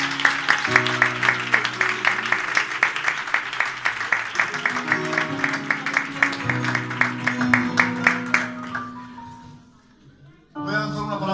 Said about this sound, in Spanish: Vamos a aplaudir al Señor en esta casa.